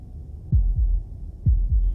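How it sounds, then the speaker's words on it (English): Heartbeat in a horror video game: two deep, thudding double beats, lub-dub pairs roughly a second apart, loud and close over a low droning hum, with no talking. "That was the sound of a heartbeat"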